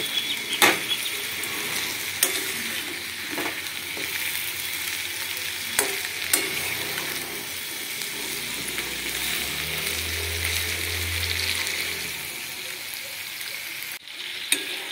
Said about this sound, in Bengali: এবার এই পকোড়াগুলো দিয়ে ভালো মতো এগুলোর সাথে ভালো মতো মিক্স করে ভেজে নেবো আবার